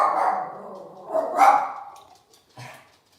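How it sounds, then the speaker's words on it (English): Puppies bark indoors in a few short yapping bursts, the first loud and sustained, then a pause, a sharper yelp, and a final brief yip, close and alone without talk. "Sorry about these puppies. I may need to move rooms."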